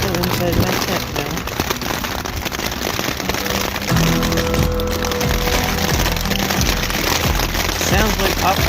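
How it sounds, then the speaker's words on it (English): Hail and rain patter densely on a tent in a desert thunderstorm along the Pacific Crest Trail, a close, constant crackling drumming of many small impacts, with a voice partly heard over it. "Sounds like popcorn, but it's hail. There's some hail and some rain."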